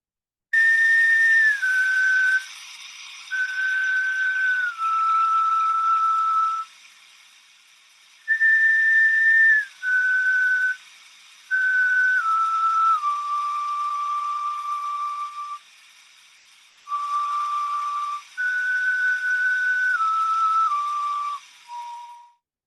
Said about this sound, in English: I'm going to show just a quick clip of what those flutes sound like